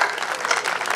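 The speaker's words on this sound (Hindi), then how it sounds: "मजो आ रही हो तो ताली बजाओ" Dense audience applause at a Marwari-language comic poetry gathering in Rajasthan, a steady close wash of many hands clapping with no break.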